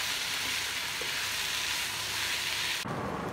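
A banana flower spice mixture fries in a pan with a dense, continuous close sizzle that cuts off sharply near the end, leaving quieter room noise; nobody speaks.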